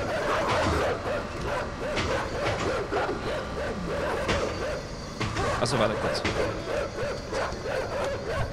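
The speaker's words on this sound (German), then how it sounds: "Die Hunde können aber auch nichts machen, wa? Die können jetzt einfach nur bellen." Dogs bark repeatedly in the video game INSIDE, a steady run of yaps and woofs over a game soundtrack while someone talks throughout.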